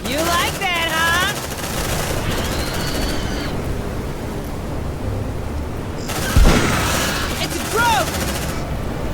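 Rapid automatic gunfire rattles in bursts during a firefight in the sci-fi game Aliens: Dark Descent, with a heavy impact near the middle, electronic chirps and a brief voice over the noise.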